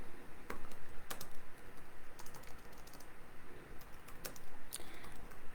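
Quick, steady typing on a computer keyboard while a comment is written, a run of close key clicks with brief pauses and a few sharper taps, and no one speaking.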